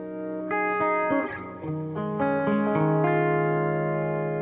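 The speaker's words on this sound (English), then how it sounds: "Nice, easy little clean tone. A little bit of amp reverb." A clean electric guitar, miked with an SM57, plays a slow sequence of sustained chords and single notes, with a gentle amp reverb tail ringing behind them.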